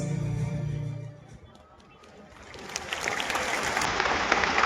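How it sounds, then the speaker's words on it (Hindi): Loud applause from a large crowd at the Prayagraj Mahakumbh 2025 gathering breaks out after a short quiet gap and swells into continuous clapping, following a few seconds of voice and tones. "बहुत जोरदार तालियों के बाद"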